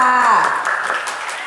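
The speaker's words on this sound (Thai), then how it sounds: "ขอเสียงปรบมือด้วยค่ะ" Audience applause breaks out at a Thai cattle and buffalo event as a judge is introduced; a voice trails off at the start, then steady, dense clapping fills the rest.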